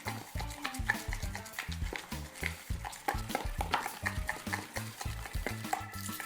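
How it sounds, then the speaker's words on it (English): A spoon stirs a bowl of melted Wilton candy melts in a steady, rhythmic scraping pattern, close and soft, with no talking. "So now we need to give it a really good stir because it's still going to continue melting"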